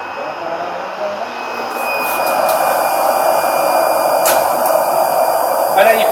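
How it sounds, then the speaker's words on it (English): A machine's vacuum pump switches on and runs as a steady loud whooshing hum, rising in level after a couple of seconds, with a high whine and a few faint clicks above it. "vacuum goes on."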